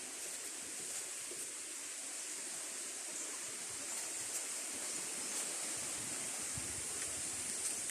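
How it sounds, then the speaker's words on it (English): Steady broadband wind rushes across open countryside on a sunny afternoon, a continuous even roar with no gusting peaks and no voices. "Listen to the music of the wind."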